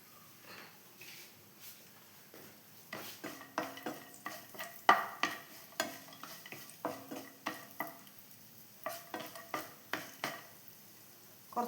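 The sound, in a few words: almonds and raisins frying in ghee, stirred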